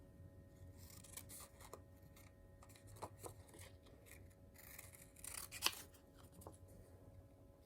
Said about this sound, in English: Let's go ahead and fussy cut these out